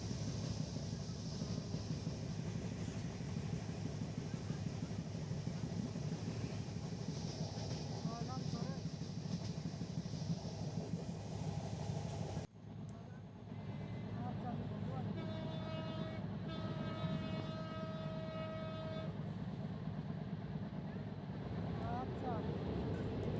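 A passenger train from Kashiani Junction toward Kamalapur station rumbles along steadily, heard from on board as a continuous loud rattle, with a sustained horn tone sounding midway through.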